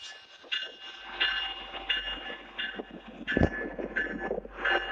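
Train passing at a railway crossing, with repeated clickety-clack bursts from wheels over rail joints and a low rumble, heard at moderate distance amid light wind.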